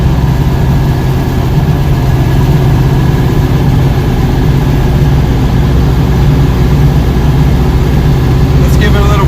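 A car with an 002 transmission cruises in fourth gear on a test drive, its engine a steady, loud, low drone throughout while a voice talks over it.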